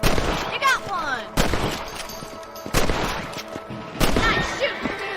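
Rifle shots at rabbits in the Western video game Red Dead Redemption: four loud, sharp cracks spaced about a second apart, each followed by a brief ringing decay, with game music and ambience between them.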